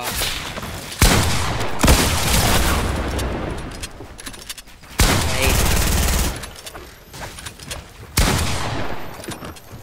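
Gunfire rings out in a shooter video game in repeated loud bursts of rapid shots, several sharp volleys separated by brief lulls, close and punchy with a player's voice occasionally under it.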